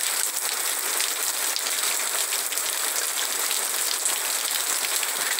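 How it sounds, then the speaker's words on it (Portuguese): Steady, heavy rainfall patters continuously on surfaces at night, a dense even hiss with no voices. "Uma verdadeira noite de chuva"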